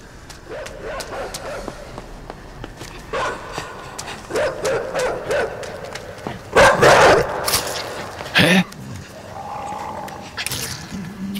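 A dog in the game Inside gives several growling barks in short bursts, loud and close over a low ambient hum, with a few sharp bangs and bumps between them.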